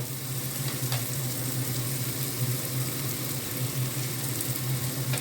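Steady sizzling and crackling of mixed vegetables and oats frying in a pan, with a low constant hum underneath and occasional soft scrapes.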